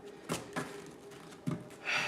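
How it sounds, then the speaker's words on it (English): Tarot cards shuffled by hand, giving a few short, soft papery bursts spaced unevenly over a couple of seconds, close and fairly quiet, with no talking. "My guy says shuffle again, so that's what I'm doing"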